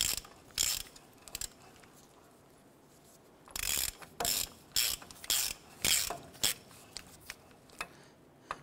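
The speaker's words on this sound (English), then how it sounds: "I'm going to go ahead and use a 27 millimeter socket on this, and we're going to tighten this down" A ratchet with a 27 mm socket tightens the upper ball joint nut on a 1993-1997 Ford Ranger, giving sharp clicking bursts in short irregular runs, close and dry, with quiet gaps between the strokes.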